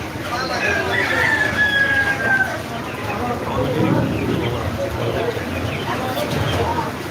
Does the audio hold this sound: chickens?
yes